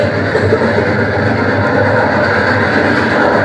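A train sound effect in a stage production, a loud continuous rumbling rail roll that runs steadily throughout with no pauses and no talk over it.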